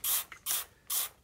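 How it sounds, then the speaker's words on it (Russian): Three short hissing bursts of a trigger spray bottle misting stain remover onto stains on the back of a chair, each puff close and crisp with brief quiet gaps and a faint pump click between. "распылить на все пятна, на спинке"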